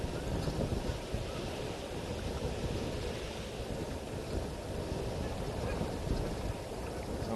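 Wind buffets the microphone at a waterhole, a constant rough roar and low rumble with gusty flutters, loud and unbroken throughout with no clear talk.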